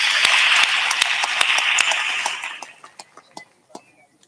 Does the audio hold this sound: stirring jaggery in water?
no